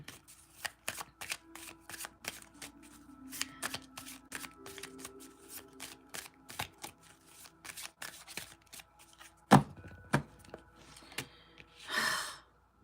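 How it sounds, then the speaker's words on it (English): A deck of tarot cards being shuffled by hand, with soft rapid riffling and flicking clicks continuing throughout, a sharp snap near the end and a short breathy rustle after it, close and quiet. "Please tell me when to stop shuffling."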